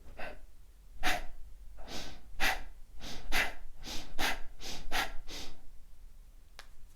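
Kapalabhati pranayama breathing: a rapid series of about a dozen sharp, forceful nasal exhalations, each a short hissing puff as the belly pulls in, close and fairly quiet, in a steady quick rhythm.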